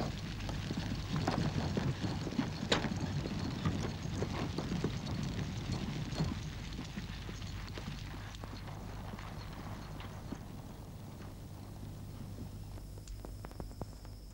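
Horses' hooves clop steadily as riders set off in a 1960 film about the Crusaders, with irregular hoof falls under a windy, rustling outdoor backdrop that fades slightly toward the end.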